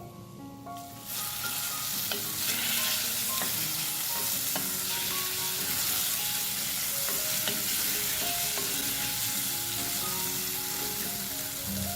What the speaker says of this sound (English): When the oil heats up, add the prawns and fry them for 2 minutes.